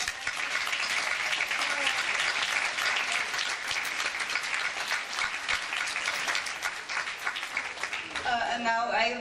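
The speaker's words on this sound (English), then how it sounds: "The last applause to my fellow co-chairs, George and Beatrice." Sustained audience applause at a 2014 Model UNESCO closing ceremony, dense and steady for most of the clip before fading as a voice begins speaking near the end.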